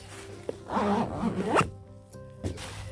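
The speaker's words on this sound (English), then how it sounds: "You grab your hand through this little loop and you just pull to tension it" Zipper on a camping cot pulled hard to tension the sleep surface, a close, rasping zip lasting about a second followed by quieter rustling and a shorter second pull.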